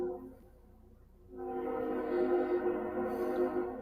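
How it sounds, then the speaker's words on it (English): A loud train passes nearby, its low rumble swelling about a third of the way in and holding steady with a sustained horn-like tone through to the end, with no talking over it. "That train is loud."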